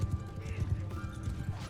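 Horse hooves gallop in Mount & Blade 2 Bannerlord across flat open terrain, a rapid, steady clip-clop rhythm close and loud, with a faint whinny and a voice talking over it.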